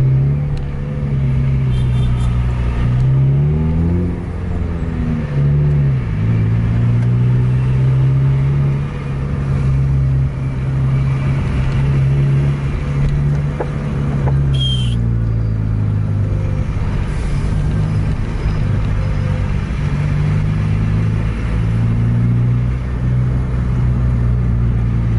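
Slow-moving traffic jam on an Indonesian road, heard from inside a vehicle as a loud, steady low engine rumble with brief rises in revs as traffic creeps forward, and a short high whine midway.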